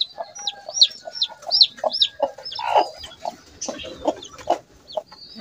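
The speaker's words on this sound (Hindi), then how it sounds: "तो ये मुर्गी है, इसने बच्चे निकाले हैं" A hen clucks softly in short repeated notes while chicks peep in high, rapid chirps close by.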